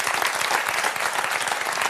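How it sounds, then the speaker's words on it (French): An audience in a hall breaks into applause, a dense, even wash of many hands clapping together, moderately loud and steady for the full two seconds. "Magnifique, ça s'applaudit, mesdames, messieurs."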